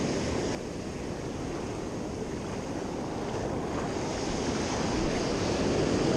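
Ocean surf breaks on a beach in a constant roar, with wind gusting against the microphone and no voices over the steady wash.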